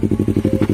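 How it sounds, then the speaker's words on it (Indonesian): A Yamaha R25 motorcycle fitted with a Kazen Proexhaust DENT 33SS exhaust idles up close, giving a loud, even, throbbing burble of regular low pulses. "Idul suara knalpotnya seperti ini"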